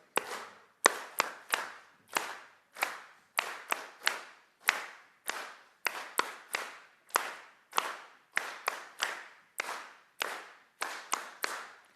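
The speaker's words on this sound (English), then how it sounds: "And now just the claps." A group at a Sunday church service claps in a steady, rhythmic pattern, with crisp close hand claps grouped in twos and threes and repeating for about twelve seconds, and no talking.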